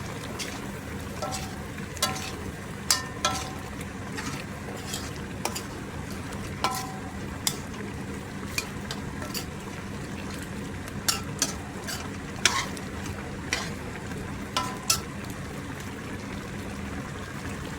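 Chicken adobo with oyster sauce being stirred in a pan, quiet sizzling under a series of sharp spoon clicks and scrapes against the pan, no talking.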